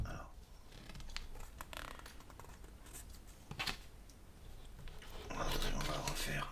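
A deck of tarot cards being cut and handled, with soft papery rubs, brief scrapes and slides close by in a quiet room, ending in a louder riffling rush.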